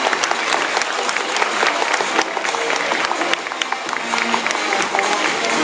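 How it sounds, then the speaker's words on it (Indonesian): Sustained, dense applause from an indoor audience at an evening business gathering, loud and steady for several seconds with scattered crowd noise underneath. "tepuk tangan buat kita"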